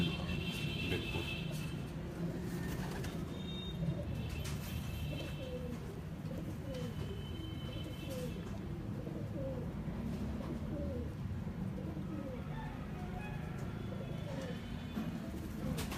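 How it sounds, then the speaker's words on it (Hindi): Pigeons coo softly and repeatedly in a steady bird-filled setting, low murmuring calls running throughout with faint chirps and a constant background hum. "और दूसरा कबूतर इधर सनी भाई ने हाथ पकड़ा।"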